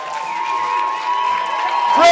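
A yoga class cheers together, a sustained group shout of mixed voices that swells and rises into a louder burst at the end.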